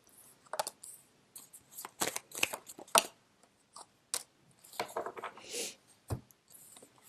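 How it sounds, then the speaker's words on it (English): Tarot cards are shuffled and pulled, giving soft, quiet flicks, taps and rustles in irregular clusters close by, with no voice. "I'm going to pull out two more cards here to clarify the Tower."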